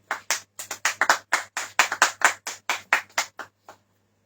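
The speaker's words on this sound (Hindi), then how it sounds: "ताली बजाएंगे सब जन प्रभु के लिए।" A congregation claps for the Lord in sharp, crisp claps, about twenty in quick, slightly uneven rhythm, close and loud, stopping abruptly into silence.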